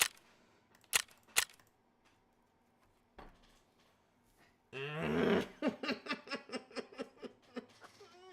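A grenade explodes in the video game Escape from Tarkov, a sharp burst followed by a loud crackling rush and a string of rapid, fading impacts, preceded by a few isolated sharp clicks and thumps.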